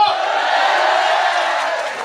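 A mushaira audience at a university gathering roars and cheers in a dense, loud, continuous wash of crowd noise, sustained throughout.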